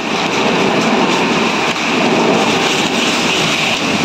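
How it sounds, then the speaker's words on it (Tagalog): Heavy rain falling outdoors while bonsai material is being planted, a dense, steady hiss that stays loud and unbroken throughout. "ulan na, lakas ng ulan"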